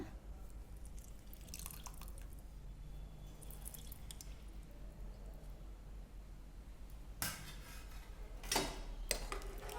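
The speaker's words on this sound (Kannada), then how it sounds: "ಒಂದು ನಿಂಬೆಹಣ್ಣು ಹಿಂಡ್ತೀನಿ ಇವಾಗ" A lemon squeezed by hand gives faint squishes and drips of juice, mostly quiet, with a couple of clearer wet squelches near the end and no talking.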